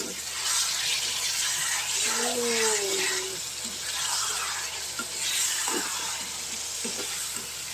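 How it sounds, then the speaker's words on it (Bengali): Tangra fish cooks in a pan for a home lunch, with a continuous sizzle and stirring scrapes alongside faint running-water sounds and a few knocks, and a brief voice rises over it partway through. "তো আজকে আমি ট্যাংরা মাছ রান্না করতেছি।"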